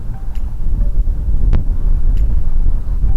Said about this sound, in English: That wind is quite bitter.